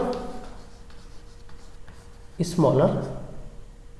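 Chalk or marker strokes rub faintly on a board in a chemistry lecture, softly scratching beneath a voice.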